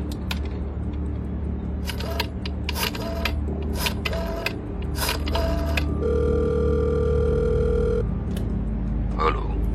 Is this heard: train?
no